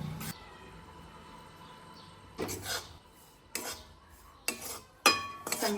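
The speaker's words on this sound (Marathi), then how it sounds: "भाजून घ्यायचं खमंग वाटेपर्यंत ह्याला हलवत राहायचं" Quiet scraping and clinking of a utensil against a pan as wheat flour is stirred while it roasts, a few separate strokes with short pauses and faint background hum between them.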